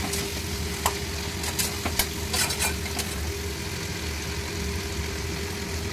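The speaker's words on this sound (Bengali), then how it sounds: "মশলাটাকে ভালো করে কষিয়ে নিতে হবে।" Spices and tomatoes fry in a pan for a potol (pointed gourd) curry, giving a steady close sizzle with a few sharper scraping stirs, no talk.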